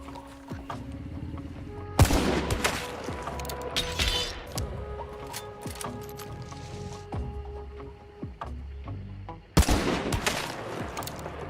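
Gunfire in the video game Hunt: Showdown: loud, sharp gunshots crack out in a burst near the start and another near the end, separated by quieter ambient game sounds.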